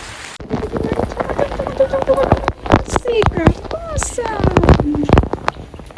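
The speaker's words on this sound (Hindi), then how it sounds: "बड़ी ही छम प्यारी प्यारी सी बारिश हो रही है, बहुत ही खूबसूरत बारिश।" Gentle, pleasant rain falls steadily outdoors as a soft, even wash beneath a voice that talks through most of the stretch.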